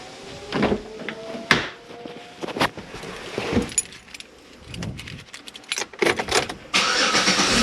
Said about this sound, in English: So I'm gonna go ahead and start the car